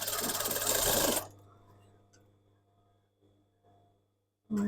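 A sewing machine rattles through a rapid stitching run along the side seam of fabric shorts, loud and close for about a second before stopping, then starting again briefly at the end.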